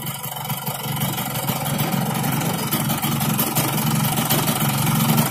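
A Yamaha RX King motorcycle engine with a loose piston runs steadily and roughly, a continuous close, moderately loud rumble with no speech over it.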